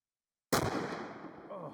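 A single sharp .50 BMG rifle shot cracks out of silence, then a long rolling echo fades across an outdoor range.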